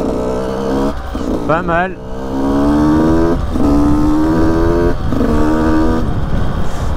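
An Audi RS6 in violet drives past on a street, its engine note rising and falling as it passes, with someone talking over it.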